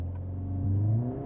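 A 2025 Mercedes-AMG CLA 45 S with its 416 hp 2-litre engine revs under full throttle in drift mode, a short, loud rising drone heard from inside the car.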